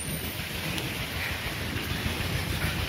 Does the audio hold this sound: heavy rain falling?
yes